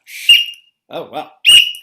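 A referee's whistle gives two sharp, shrill blasts with a short gap between them, loud and close, during an improv comedy match.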